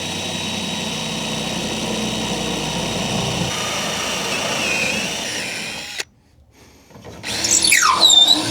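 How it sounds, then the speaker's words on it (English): A power drill whines steadily, its pitch shifting as it bites into a wooden 2x4, then stops abruptly before revving up again in short bursts. "So I'm deliberately drilling through a 2x4"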